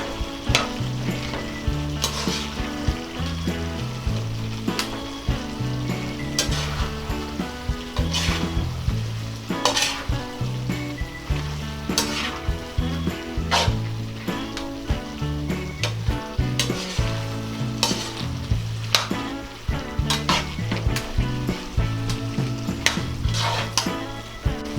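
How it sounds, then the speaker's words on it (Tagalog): Pork giniling and pineapple chunks sizzle and hiss steadily in a hot pan while a utensil stirs through them, with frequent scraping knocks against the pan throughout. "Ngayon po ay isusunod na natin ang ating pineapple chunks. Hahaluin lang po natin to."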